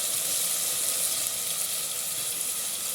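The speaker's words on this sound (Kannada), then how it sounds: "ಎಣ್ಣೆ ಕಾದಿರೋದ್ರಿಂದ ಬೇಗ ಫ್ರೈ ಆಗಿಬಿಡುತ್ತೆ. ನೆಕ್ಸ್ಟ್ ನಾನಿಲ್ಲಿ 1 ಕಪ್ ಆಗೋಷ್ಟು ಹೆಚ್ಚಿರೋಂಥ ಟೊಮೆಟೊ ಹಾಕ್ಕೊಳ್ತಾ ಇದ್ದೀನಿ" Chopped tomatoes fry in hot oil with a steady, dense sizzle that holds evenly throughout, close and moderately loud, with no voices.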